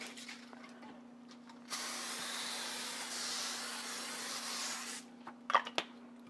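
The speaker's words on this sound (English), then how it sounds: "line it with foil, and then spray the foil" A single continuous cooking-spray hiss onto foil in a 15 by 10 pan lasts about three seconds over a faint background hum, followed by a few light clinks.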